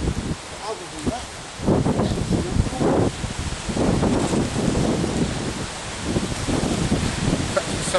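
Wet, windy weather outdoors, with steady broadband wind noise and rain hiss throughout and gusts buffeting the microphone; someone talks over it at close range.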